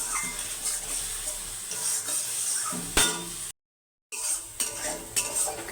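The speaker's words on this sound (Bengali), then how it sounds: "মশলাটা ভালো করে কষিয়ে নেবো" Chana masala spices frying in a pan, a steady sizzle with repeated stirring and metal utensil scrapes close by, briefly cutting out before the stirring and clinks resume.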